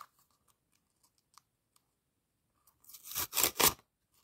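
A plastic packet holding cosmetics from a paper-collection unboxing is torn open: near-silence with a few faint handling ticks, then one loud, crinkly tearing burst lasting about a second before it stops.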